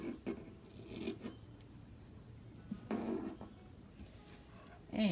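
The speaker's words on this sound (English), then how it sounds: "Cut that piece off, and I think it'll sit better, much better." Scissors snip through material while crafting a lace journal, with a few short cutting and rustling sounds spread out over several seconds, quiet and close.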